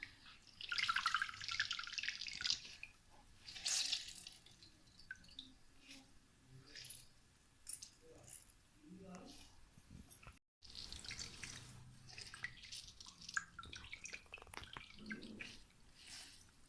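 Soaked bread pieces squeezed by hand release water that drips and splashes into a bowl or sink, a wet trickling that comes in bursts with brief pauses, close and fairly quiet.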